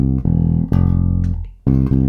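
Low, round electric bass notes sound close and alone: a few sustained tones, then a half-step approach from below into F, from a tune's chord changes, with no voices.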